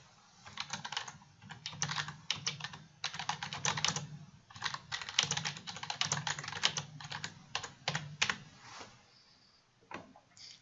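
Rapid keystrokes on a computer keyboard entering text into a web curation work area, clustered in irregular bursts with brief pauses, close and fairly quiet, with no voices.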